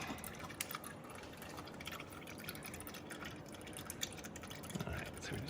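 Old engine oil drains from a Porsche 928 S, a steady liquid trickle with faint drips running throughout under low background noise.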